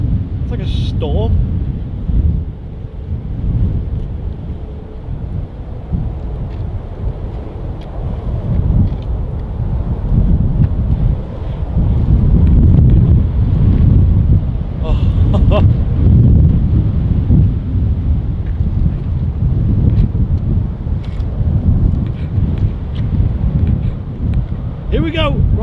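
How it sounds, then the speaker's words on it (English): Strong gusty wind buffets a microphone outdoors at a Manchester airport plane-spotting spot, a loud continuous low roar that rises and falls for the whole stretch, with people talking and exclaiming beneath it. "Oh, so windy!"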